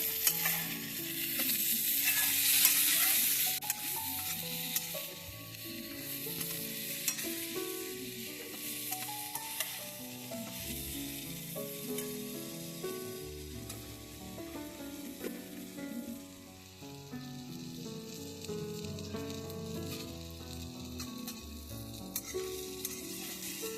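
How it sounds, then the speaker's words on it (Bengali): Brinjal pieces tossed with salt and turmeric fry in hot oil in a pan, a dense, steady sizzle with stirring scrapes that stays close and loud throughout, with no talking. "বেগুনগুলো ভাজা হয়ে গিয়েছে।"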